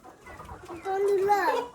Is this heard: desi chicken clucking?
yes